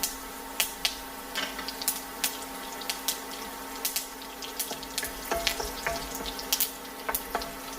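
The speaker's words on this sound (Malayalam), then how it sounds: "സവാള വറുത്തതിൻ്റെ ബാക്കി എണ്ണയിലേക്ക് തന്നെ ഞാൻ ചിക്കൻ വെക്കാൻ പോവാണ്" Chicken pieces and curry leaves frying in leftover oil from fried onions, a steady hissing sizzle close by with scattered sharp crackles and pops throughout, no talking.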